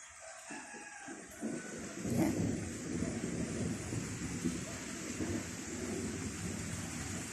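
Low, rolling thunder rumbles through steady rain, swelling louder after a couple of seconds, with a rooster crowing faintly in the background.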